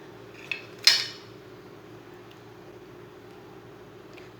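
A paratha is placed onto a plate with a couple of clinks of dishes: a small tap, then a sharper ringing clink just after, followed by quiet kitchen background with a faint knock at the end.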